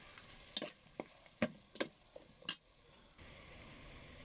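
Bamboo shoots cooking in coconut milk being stirred in a pot, a few sharp utensil scrapes and knocks spaced irregularly over a faint simmer, then a soft steady bubbling hiss.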